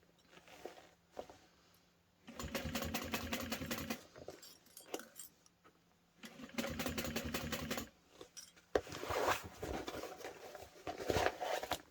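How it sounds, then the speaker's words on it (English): A sewing machine back stitches the connector of an anti-theft backpack, running in three close, rapid whirring bursts separated by short quiet pauses and handling sounds. "give a little back stitch right there in the connector"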